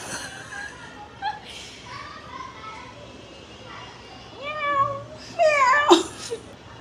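A cat meows several times, rising and wavering calls that grow louder and closer toward the end. People talk and chuckle around it in a home setting.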